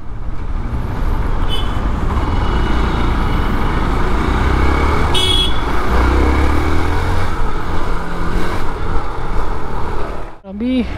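A 2023 Hero Xpulse 200 4V motorcycle with E20 fuel engine drones steadily while riding on a road, a loud continuous rumble mixed with wind and traffic noise throughout.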